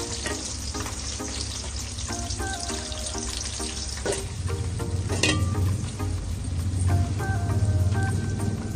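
Sliced onions and chillies fry in oil with cinnamon, cloves and cardamom for Nellore chicken biryani. The sizzle is steady and close, with stirring clatter and occasional sharp scrapes of a spoon against the pan.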